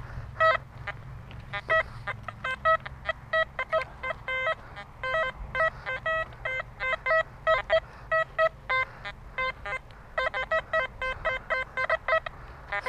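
Metal detector beeping over buried metal during an outdoor detecting outing, rapid repeated tonal beeps in irregular bursts, loud and close over a low background rumble.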